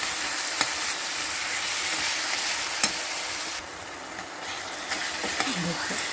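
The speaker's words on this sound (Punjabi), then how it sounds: "ਟਮਾਟਰਾਂ ਨੂੰ ਭੁੰਨ ਕੇ ਤੇ ਵਿੱਚ ਪਿਆਜ਼ਾਂ ਚੰਗੀ ਤਰ੍ਹਾਂ ਮਿਕਸ ਕਰਨਾ" Tomatoes and onions roasting and being stirred in a pan for a Punjabi-style eggplant bharta make a steady, close sizzle with occasional scraping and tapping of the spoon.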